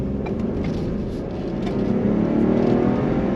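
A Ford F-150 Tremor pickup truck accelerates hard, its engine roar loud and steady and building slightly toward the end, with no talk over it.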